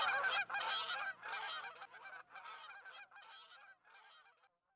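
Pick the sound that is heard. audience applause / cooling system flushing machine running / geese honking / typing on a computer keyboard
geese honking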